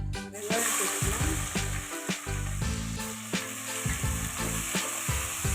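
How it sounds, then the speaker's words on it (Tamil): Chopped onions sauté in a pan for ridge gourd chutney, giving a steady close sizzle with occasional utensil clinks and stirring scrapes throughout. "2 நிமிஷம் வதக்கட்டும்."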